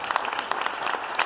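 Audience clapping in a theatre for a speaker being called up, a fairly sparse, uneven patter of individual claps with a few sharper hits standing out.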